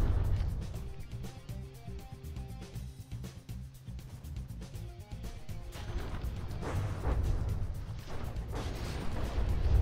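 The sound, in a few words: naval gun shells firing in video game From the Depths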